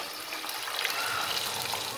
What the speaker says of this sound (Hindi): इसमें डाल देंगे हम तेल में और इसके ऊपर से जो है पानी डालेंगे।